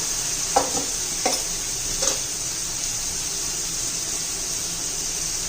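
A spatula scrapes three times through rajma biryani as curry leaves and mint are mixed in, each stroke over a steady background sizzle from the pan.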